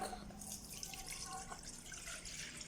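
Lukewarm milk is poured for hot cross bun dough, a faint, steady liquid trickle and splash with a hiss, heard quietly without talk.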